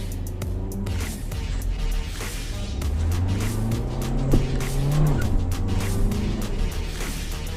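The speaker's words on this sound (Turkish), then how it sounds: "Renault Express 2022 model aracımızın şu an sizlerle beraber yani yaklaşık şuradan şurası bir 50 metre olsun bir 50 metre kalkışını görelim" A 2022 Renault Express Combi with a 95 hp 1.5 engine pulls away hard from a standstill, its engine revving loudly and rising in pitch close by, with tyre noise mixed in.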